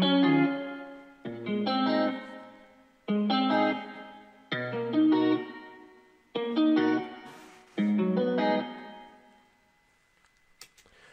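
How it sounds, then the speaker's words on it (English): Guitar loop with a reverb effect in FL Studio 12, six evenly spaced chord strums whose tails ring out, then a fading reverb wash with faint clicks. "let me show you what it sounds like once we slap the reverb on it."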